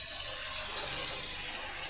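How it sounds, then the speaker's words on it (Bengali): Jute leaves are washed by hand in water, a continuous close splashing and rushing wash like a running tap or sink, steady throughout with no voices. "আমি এখানে এই পাট শাকের পাতাগুলোকে খুব ভালোভাবে ধুয়ে নিচ্ছি"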